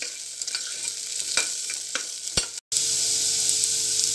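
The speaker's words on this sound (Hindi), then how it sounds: "इसे थोड़ी सी देर चलाएंगे, मसाले उनको अच्छे से पकाएंगे" Coriander powder and turmeric powder are stirred and toasted in a hot pan for savory daliya, giving a steady close sizzle with soft scraping strokes and a brief dropout near the end.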